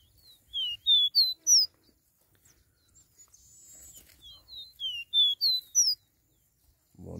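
Small seedeater (caboclinho) songbird singing outdoors, bright clear whistled phrases in two short bursts of three or four notes, with faint background rustle between them.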